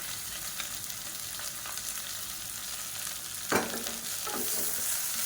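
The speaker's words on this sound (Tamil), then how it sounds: "வெங்காயம் நல்லா வதங்கட்டும்." Sliced onions fry in oil with spices and mint leaves for a chicken kurma, a steady sizzling hiss broken by a sharp scrape of stirring midway and a few softer stirring scrapes after, with no talking.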